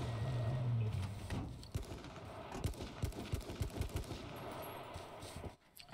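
Gunfire in the battle royale game H1Z1 King of the Kill cracks as a series of sharp, rapid shots at middling distance, heard over a low engine rumble and background noise.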